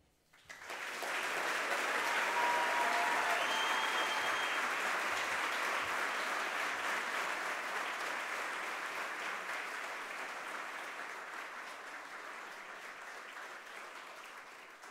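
A large audience at the 2017 US Lacrosse Hall of Fame ceremony breaks into loud, sustained applause. The clapping swells quickly, holds full and continuous, and eases slightly toward the end, with no talking.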